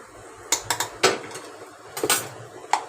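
Peanut powder mixture being stirred in a metal pan, sharp clinks and scrapes of a spoon against the pan in irregular bursts, close and fairly loud, with no talking.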